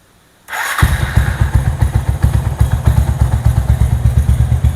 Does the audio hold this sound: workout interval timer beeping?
no